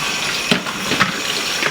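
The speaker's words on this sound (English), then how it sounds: "I run cold water in my bowl or my pan I just got through cooking it in" Cold tap water pouring into a cooking pan in a home kitchen, a steady close rushing stream with a couple of brief splashy surges.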